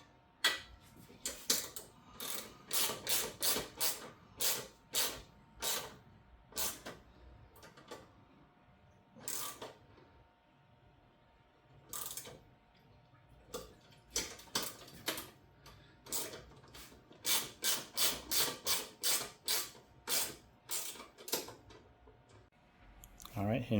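Mechanical clicking from a 10mm socket wrench tightening the luggage rack bolts on a motorcycle, heard as repeated close bursts of rapid ratchet ticks separated by short pauses.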